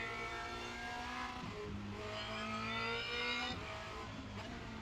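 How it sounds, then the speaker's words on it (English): Formula Renault 2.0 race car in the iRacing sim at Spa-Francorchamps, its engine droning steadily and shifting pitch as it downshifts, with a continuous moderate engine tone throughout. "I just downshifted third just to show you that one."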